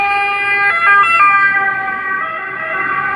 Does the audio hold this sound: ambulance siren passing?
yes